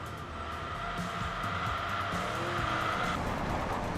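Car tires squeal in the racing video game Enthusia as a sport sedan understeers into a corner, a sustained high screech over steady engine drone lasting several seconds.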